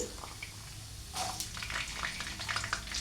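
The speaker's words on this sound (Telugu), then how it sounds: "ఇవి మంచిగా మనకు ఫ్రై అవుతున్నాయి కదా" Cumin seeds, dried red chillies and garlic fry in hot oil, giving a soft, steady sizzle with a few brief crackles and stirring noises. The sound stays close and fairly quiet, and no one speaks.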